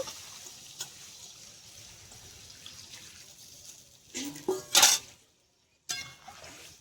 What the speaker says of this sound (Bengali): এবার আমি পনিরটা দিয়ে দেব, জল সমেত পনিরটাই দিয়ে দেব